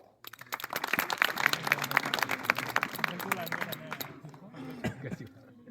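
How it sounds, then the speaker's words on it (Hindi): An audience claps in a dense, steady burst of applause to welcome a speaker at a student organisation gathering, many hands together at close range, swelling early then gradually thinning out. "आपकी जोरदार तालियों से स्वागत करूंगा भाई देवेश का"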